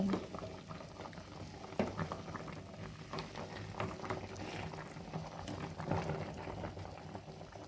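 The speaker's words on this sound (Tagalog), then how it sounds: "Nagpapakulo tayo ng buto-buto ng paa ng baboy." A pot of pork trotter bones bubbles at a steady rolling boil, continuous gurgling and popping close by with no talking.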